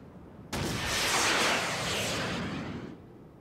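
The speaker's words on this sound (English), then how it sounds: "Might as well throw a little gunfire at Zippar." A single sustained burst of gunfire from a Civilization VI unit attack: a sharp onset followed by a roaring, noisy blast that holds for over two seconds before fading, fairly loud with no voices.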